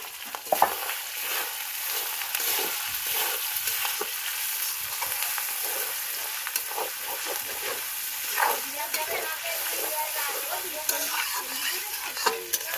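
Tomatoes fry in a pan with a constant bright sizzle, broken by frequent scrapes and clatters of a stirring utensil, close up and steady for the whole stretch.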